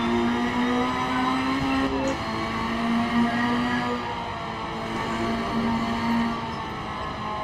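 A race car engine in a racing video game drones steadily at high revs for the whole stretch, loud and continuous with slight pitch shifts.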